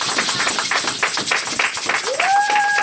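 A church congregation applauds together, a steady, dense patter of claps close by with voices mixed in and a rising tone entering near the end.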